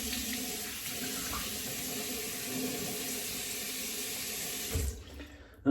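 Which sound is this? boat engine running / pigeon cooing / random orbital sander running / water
water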